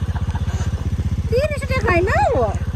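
A motorcycle engine putters in a steady, rhythmic idle close by, loud and even, while a voice talks briefly over it partway through.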